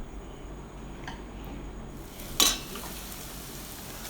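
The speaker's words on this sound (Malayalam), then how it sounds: "പിന്നെ ഒരു 1/2 ടീസ്പൂൺ മഞ്ഞൾപ്പൊടിയും കൂടിയും ചേർത്തിട്ട് നന്നായിട്ട് വഴറ്റുക" Onion-based masala sautéing with half a teaspoon of turmeric powder for a vada curry, giving a soft, steady sizzle with one brief metallic clink of a spoon against the pan. Close and quiet, with no talking.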